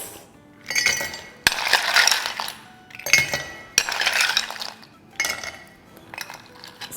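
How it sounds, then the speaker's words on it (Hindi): Ice cubes drop into a glass for a summer mango drink, arriving in several bursts of clinking and rattling with sharp knocks between them, close and clear, with no voices. "तो अब ग्लास में डालेंगे आइस"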